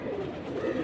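Pigeons at a busy pigeon market give a low, continuous cooing murmur, steady and close, with no other sounds breaking through.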